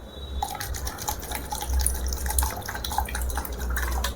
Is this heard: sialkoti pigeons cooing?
no